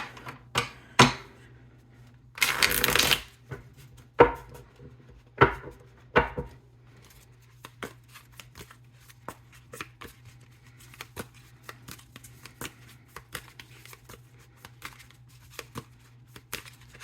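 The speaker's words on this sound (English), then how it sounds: "we'll shuffle this just a little bit more, and then we'll pull 2 cards" Tarot cards are riffled and shuffled, with a burst of flicking followed by sharp taps and a long run of soft, quick clicks, close by.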